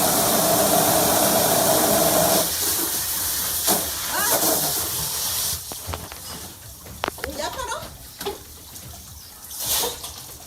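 Extremely hot water sprays from burst plumbing, giving off steam as a loud, continuous roaring hiss that later breaks into sputtering gushes and splashes, with voices talking over parts of it.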